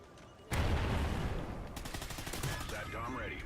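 Rapid automatic gunfire erupts suddenly and sustains as a dense, loud burst of shots during a Call of Duty: Ghosts multiplayer match, with a player's voice heard faintly beneath it.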